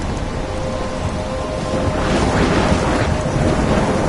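A video game thunderstorm with steady heavy rain and a low rumble of thunder that swells in the second half, loud and continuous with no voices.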